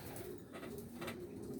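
Young racing pigeons or white release doves coo softly in a low, continuous murmur, several birds at once under a steady hissing backdrop.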